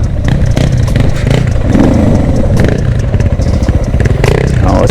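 Dual-sport motorcycles, among them a Suzuki DR650, a KTM 690 and a Honda CRF, ride a single-track trail. The engines rev and surge up close, with clattering and scraping over rough ground.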